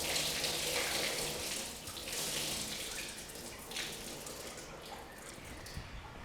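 The first cloudy rinse water pours off the rice in a continuous splashing flow that gradually eases and thins toward the end, with no voices.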